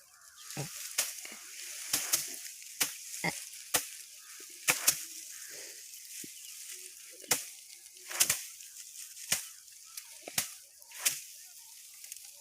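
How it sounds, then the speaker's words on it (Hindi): Harvested mustard plants beaten by hand on a village threshing floor: a dozen sharp, dry thwacks at uneven intervals, fairly close, with rustling between strikes. "तो चलिए हम पीटते हैं"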